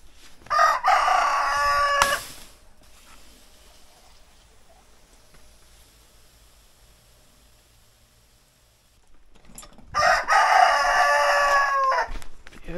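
A rooster crows loudly twice, once near the start and again near the end, with quiet background between the calls.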